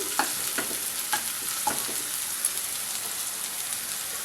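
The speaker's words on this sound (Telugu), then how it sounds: "అల్లం వెల్లుల్లి వేగింది." Ginger and garlic fry in oil in a pan with a steady, close sizzle, broken by a few scraping stirs of a spoon near the start.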